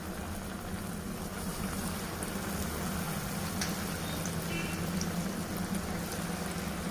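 Eggplant bajji fritters fry in hot oil, giving a steady, soft, continuous bubbling sizzle throughout, fairly quiet and close.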